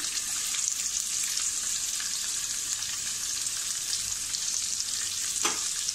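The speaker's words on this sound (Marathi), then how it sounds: "आता आपण हा थोडा कांदा याच्यामध्ये टाकूया।" Finely chopped onion and garlic fry in a pan of oil for a colocasia-leaf curry, a steady loud sizzle throughout with a brief scrape of a utensil near the end, no voices.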